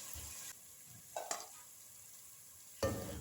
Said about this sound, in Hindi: इतनी देर में प्याज फ्राई हो गए तो मैंने इसमें अदरक लहसुन का पेस्ट शामिल कर दिया